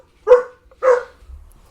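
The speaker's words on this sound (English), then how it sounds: "My dog." A pet dog gives two loud, close barks about half a second apart, followed by quiet.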